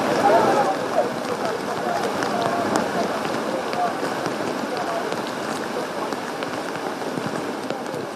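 Heavy rain pours steadily on the Thamarassery ghat mountain road in Kerala during landslides, making a dense, even hiss under a narrator's voice.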